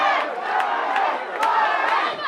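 A large hurling crowd at the 2019 Munster club final between Borris-Ileigh and Ballygunner roars loudly and continuously, a dense wash of cheering voices with a few sharper shouts rising out of it.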